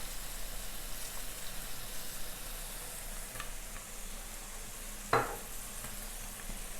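Zucchini and egg stir-fry with minced pork is stirred in a pan, a soft steady sizzle running throughout with a sharper clatter of the spatula near the end.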